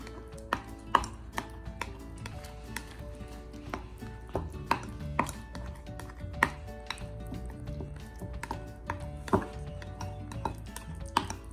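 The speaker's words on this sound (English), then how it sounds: "And now we are going to mix it all together." Egg wrap ingredients with mayonnaise being mixed and mashed together in a bowl, giving a run of irregular taps, scrapes and knocks of a utensil against the bowl at close range, with no talk.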